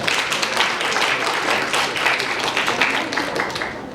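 A lecture audience applauds at the close of a Korean parenting talk: dense, steady clapping from many hands holds fairly loud and even for the full stretch, with no pauses.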